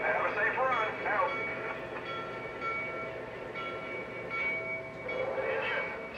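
A Lionel GP7 model freight train rumbles and clatters along steadily at moderate volume, with faint squeals and a metallic hum over the rolling noise.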